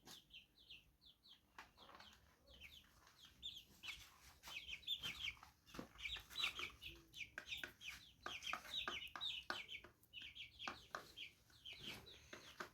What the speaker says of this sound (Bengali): এখানে 13 পিস টাইগার মুরগি আছে